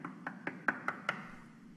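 Knuckles of a fist rap on a door six times in an even, quick rhythm, faint and somewhat distant, with no voices.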